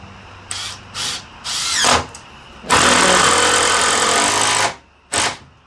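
A power drill drives a 2.5-inch screw into pallet wood, several short loud bursts of whirring motor followed by one long sustained run and a final brief burst, close and dominant.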